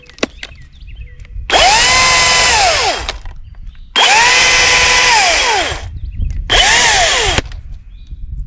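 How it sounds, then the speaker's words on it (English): A battery chainsaw motor whirs in three bursts, each revving up to a steady high whine then cutting off, with brief quiet gaps between. "another thing that I love about this chainsaw is how quiet it is"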